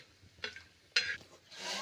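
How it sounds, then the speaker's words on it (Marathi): Drumstick vegetable pieces stirred in hot oil on a pan for a village-style spicy curry, three short scraping bursts with brief sizzles in between, close and soft, no talking. "हे बघा व्यवस्थित सगळे कोण ते आपल्याला हलवून घ्यायचं आहे जेणेकरून तेलाने ते गरम होईल आणि व्यवस्थित तेलाने ते लवकर परतून निघेन"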